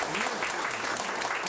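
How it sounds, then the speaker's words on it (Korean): Steady audience applause at a 2013 Gyeongbuk disability sports policy workshop, a brief continuous wash of clapping heard at moderate distance. "여러분 따뜻한 박수 보내드리겠습니다"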